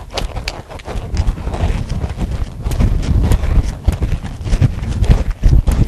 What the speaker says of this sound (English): So, I'm going to ask this colt to just slope up to the first barrel.